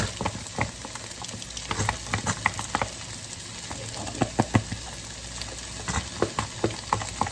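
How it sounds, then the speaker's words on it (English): Onions and garlic sizzling in a Ninja Speedi cooker, a steady crackling fry with scattered sharp pops and spits across the whole stretch, close and moderately loud with no talk. "our onions are cooking away nicely"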